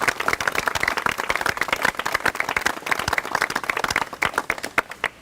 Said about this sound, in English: I want everybody to give the study committee a big round of applause